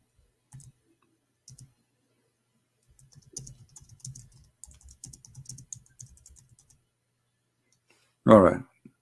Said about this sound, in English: Look like there's a delay in typing for some reason in this software.